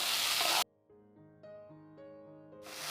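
Potato pieces fry in a pan for a bhendi aloo bhaja of okra and potato, giving a loud, dense sizzle that cuts off for a short melodic tune and then returns near the end.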